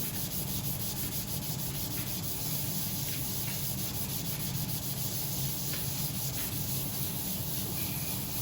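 Steady, close rasping of sandpaper being rubbed across a guitar finish, a continuous scratchy hiss with slight rhythmic strokes and no talking.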